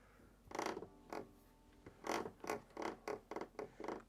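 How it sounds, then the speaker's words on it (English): The 3D-printed front door of a Voron V0.1 printer creaks as it is worked back and forth, a series of about ten short, close, squeaky creaks in an uneven rhythm over a quiet room. "we've got a creak on the front door as well"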